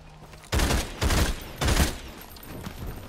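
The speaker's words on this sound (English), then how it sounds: "I keep forgetting that this is a burst weapon." Burst-fire weapon shots ring out in a video game, three loud, close bursts of rapid gunfire spaced about half a second apart, followed by quieter lingering noise.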